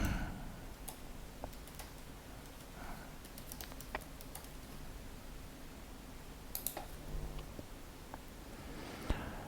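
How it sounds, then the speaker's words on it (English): Password keys tapped on a computer keyboard during a Java JDK install on macOS, a quick run of light clicks spread unevenly across the stretch, fairly close and quiet with no talking. "Entering the password again."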